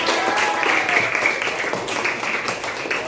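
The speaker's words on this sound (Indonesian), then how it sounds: "tepuk tangan untuk kita sekalian" A classroom of students applauds, a dense, steady patter of clapping hands at close range lasting a few seconds.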